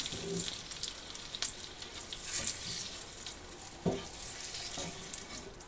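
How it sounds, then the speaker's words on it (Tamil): Ginger garlic paste sizzling in hot masala in a pan: a steady, close frying hiss with occasional stirring scrapes and crackles, and no voices. "இப்போ ஏற்கனவே நம்ம அரைச்சி வச்சுருக்கிற இஞ்சி பூண்டு பேஸ்ட்டு இதில் போட்டுடலாம்."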